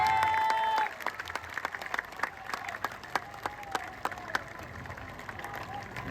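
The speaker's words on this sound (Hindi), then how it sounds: "जोरदार ताली बजाइए" At a Jan Suraaj party political rally, a large outdoor crowd claps in scattered, uneven bursts, sharp individual claps standing out over a steady background murmur.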